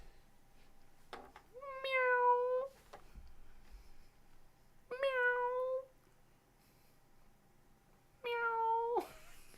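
A cat meows three times, each meow clear and drawn-out, with long quiet gaps between them. The meows are fairly faint and stand alone with no voices.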